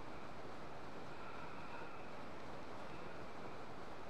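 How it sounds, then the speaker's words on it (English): A big waterfall in the video game The Legend of Zelda: Tears of the Kingdom gives a steady, even rushing roar, continuous and moderately quiet, with no voices. "Look at that big ass waterfall."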